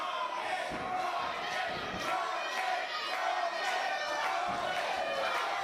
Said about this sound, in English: I don't think the crowd knows what they're doing when they're chanting for Krofton